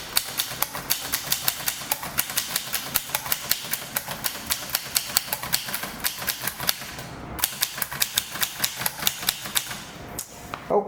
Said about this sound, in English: Then we return the carriage and we are ready to start typing.